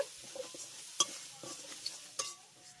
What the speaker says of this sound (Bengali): এবার আমি এই সমস্ত মশলার উপকরণগুলোকে একবার ভালো করে মিশিয়ে এক মিনিটের মতো কষিয়ে নেব